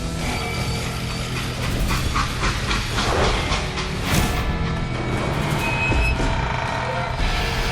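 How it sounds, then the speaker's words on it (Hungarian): Freight train in the Call of Juarez Gunslinger video game, a loud continuous rumble with clanking wagons and hissing steam, steady and close, with bright squeals near the end. "They hopped a freight train"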